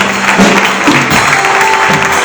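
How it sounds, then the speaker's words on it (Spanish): Congregation in a church applauds in a loud, continuous wash of clapping, with a low sustained tone and some voices blended in. "Dale un aplauso al Señor."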